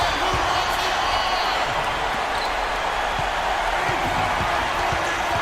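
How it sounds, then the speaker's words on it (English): Broadband crowd roar in the NBA 2K15 video game fills the space during a playoff game, loud and sustained, with sneaker squeaks and ball bounces underneath. "That shot eliciting a roar from this gigantic crowd."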